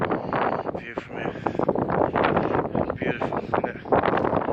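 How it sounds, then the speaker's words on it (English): Wind gusting steadily across an exposed hillside on a wet, overcast day, a continuous rushing roar buffeting the microphone for the whole stretch, with no voices over it. "It's windy, but it's not cold, is it?"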